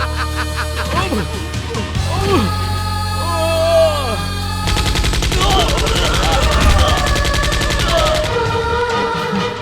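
Gunfire in an action film scene from a Hindi-dubbed Telugu movie crackles in rapid bursts under loud shouting voices, growing denser in the second half.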